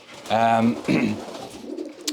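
Young racing pigeon cocks coo inside a loft, a close, throaty burbling call followed by softer rustling and shuffling.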